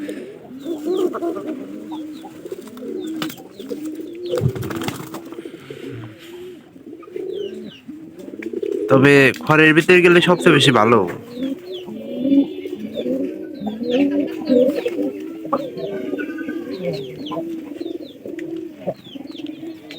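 Pigeons, a local desi pigeon paired with a Giribaz tumbler, coo in repeated soft rolling phrases throughout, with a brief flurry of louder wing flaps near the middle and someone talking intermittently over them.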